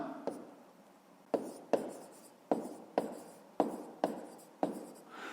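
Pen scratching across a school notebook in a series of short written strokes, each opening with a soft tap, close and hushed with no one speaking.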